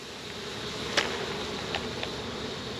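Honeybees from a hive being moved at night give a faint, steady insect drone, with a few brief brighter buzzes as single bees pass close.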